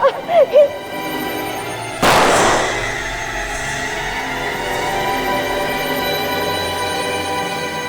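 A single loud gunshot cracks out in a tense indoor crime-drama scene, ringing into a long reverberant decay after a brief moment of someone speaking.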